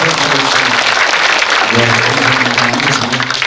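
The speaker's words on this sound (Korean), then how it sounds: "큰 박수 한번 부탁드리겠습니다." Loud, dense applause from an audience at a public election speech meeting of a redevelopment committee, sustained clapping with a voice speaking over it.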